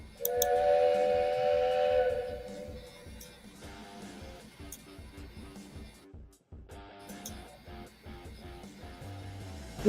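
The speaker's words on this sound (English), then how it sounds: "I got the train whistle." A train whistle sounds loud and sustained at the start for about two seconds, followed by a busy mix of background noise and a brief dropout.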